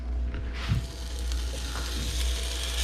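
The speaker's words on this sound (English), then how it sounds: "We are going to render out a little bacon." Bacon fat rendering in a pan makes a soft, continuous sizzle under a constant low hum, with a faint clink near the start.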